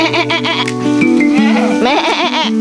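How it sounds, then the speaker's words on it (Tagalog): A baby goat, white and brown, bleats on a farm in a loud, wavering, nasal cry that runs nearly without pause, close by, with a few other voices and animal sounds mixed in. "May baby kambing."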